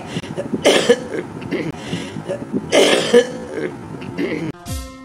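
A person coughing close by, two strong harsh bursts separated by short rough throat sounds and breaths, with a brief sharp noise at the end.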